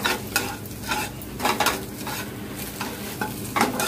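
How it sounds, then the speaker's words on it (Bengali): Bhujia fries lightly in a pan, a steady low sizzle under repeated scraping and stirring strokes that come in short bursts close by. "ভুজিয়া আমি হালকা হালকা করেই করবো খুব বেশি"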